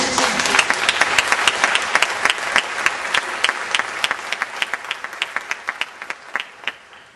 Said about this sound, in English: if there are any teachers in the audience, give yourselves a round of applause